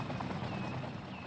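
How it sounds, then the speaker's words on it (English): A fire helicopter in the city-building game Cities Skylines gives a brief, steady rotor thrum, a continuous fluttering drone with no talk over it. "We got some helicopters saving us."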